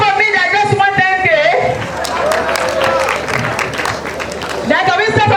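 An audience at an OOU engineering graduate induction ceremony applauds, clapping as a crowd over a steady crowd roar with overlapping voices and babble, swelling and fading across several seconds.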